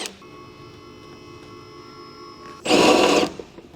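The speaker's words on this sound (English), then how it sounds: "Use a 14mm deep socket with the electric impact wrench to remove the strut tower mounting nuts." An electric impact wrench with a 14mm deep socket spins off the strut tower mounting nuts on a 2007-2013 Acura MDX with the J37A engine. One short, loud, rattling burst cuts in over a steady background hum.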